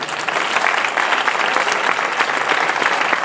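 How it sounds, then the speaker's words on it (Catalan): A festival crowd applauds the light and sound technician with dense, steady clapping that stays loud and even throughout, no voices standing out above it. "Un aplaudiment per a ell."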